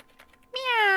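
A single cartoon cat meow from a Scratch program rises clearly out of near silence, a short, bright, tonal note that slides gently downward.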